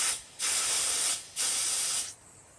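Compressed air hisses loudly into a flat tire that had a nail pulled from it, in two sustained bursts with a brief gap between them and a fainter hiss trailing after.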